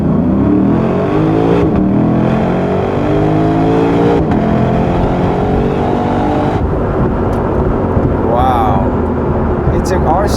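Lexus RC F launched hard with launch control, its exhaust roaring loudly as the engine climbs through rising gears, with brief dips at each shift, heard from inside the car.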